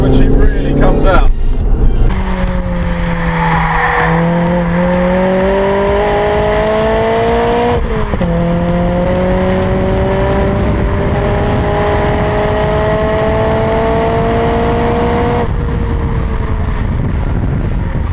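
A Ford Fiesta ST is driven hard through corners. The engine note climbs and falls with repeated revving and gear changes, loud and close, over steady road noise, with someone talking over it at times.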